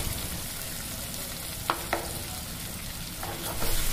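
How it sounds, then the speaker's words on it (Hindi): Tomato and cashew paste masala fries in a pan over medium flame for an egg lababdar curry, giving a constant dense sizzle with a couple of sharp spoon scrapes and a slightly louder burst at the end; nobody talks. "और अब मसाले को मीडियम फ्लेम पर भून लेंगे।"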